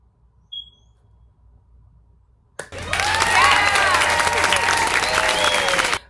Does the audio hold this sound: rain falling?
no